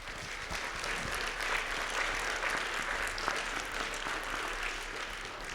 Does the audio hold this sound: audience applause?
yes